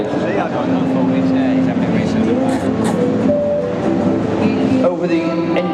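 A replica 2.2-litre Zephyr 6 rally car drives in a classic car parade, its engine droning and shifting pitch under continuous talk.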